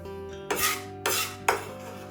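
Sweet corn salad ingredients with fresh basil tipped into a large mixing bowl, making three quick scraping, rattling dumps about half a second apart against the bowl over a soft steady hum, with no talking.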